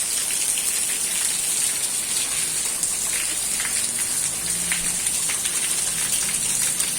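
Continuous rushing, splashing water like runoff streaming after rain, a steady wash of droplets and flow with no voices.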